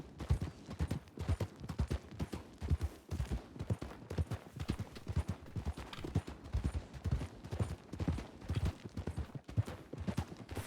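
Horses' hooves clip-clop steadily in a four-horse parade in a Western roleplay video game, a dense, continuous rhythm of many overlapping hoofbeats close by, with no talk over them.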